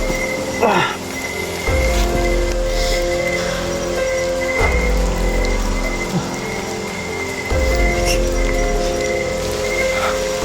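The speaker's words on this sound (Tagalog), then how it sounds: "Lumalakas ng ulan." Heavy rain pours steadily at night beside a coconut palm in a Philippine countryside, a dense hiss that swells in strength, with loud low rumbling surges every few seconds.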